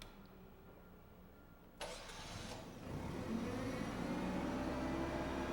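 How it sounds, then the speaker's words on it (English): A propane-powered forklift engine fires up partway through and settles into a steady, close running idle over a low background rumble. "keep the engine running"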